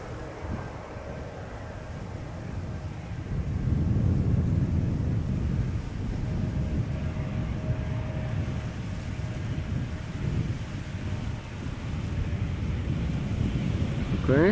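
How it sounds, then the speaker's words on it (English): A KLM Embraer 190 arriving from Stuttgart touches down at Schiphol without reverse thrust, a steady broadband jet roar swelling after a few seconds and holding, windy and diffuse, with no voices. "So this is an actual KLM Embraer 190 arriving from Stuttgart."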